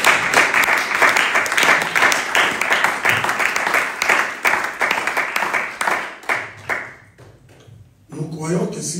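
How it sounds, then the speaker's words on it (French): A church congregation claps in a dense burst of applause through a sermon, loud and close with cheering voices mixed in, then tapering off into a few scattered claps near the end. "Est-ce qu'on peut acclamer devant moi?"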